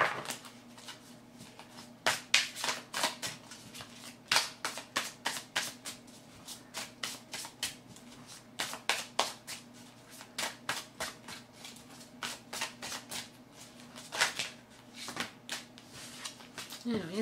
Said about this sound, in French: Donc, on va continuer à mélanger.